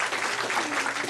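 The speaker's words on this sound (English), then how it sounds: "Give them a round of applause." A brief burst of audience applause for event volunteers, steady and dense clapping from a crowd throughout the short moment, loud and close.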